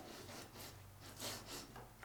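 Light, gentle sandpaper strokes on a small wooden piece being smoothed of burrs: soft rhythmic rasping rubs, several in a row, faint and close, with no voices.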